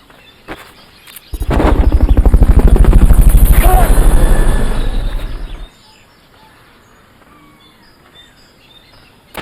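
Rotor thump of the Fulton recovery helicopter in Metal Gear Solid: Peace Walker builds suddenly, holds loud and steady for about four seconds, then cuts off, leaving faint background.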